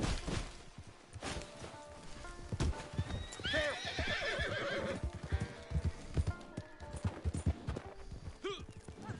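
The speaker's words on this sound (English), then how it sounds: "They got horses here they don't need." Game horses in Red Dead Online neigh repeatedly while hooves clop on the ground, with a bright whinny in the middle and more calls toward the end; a voice speaks faintly underneath.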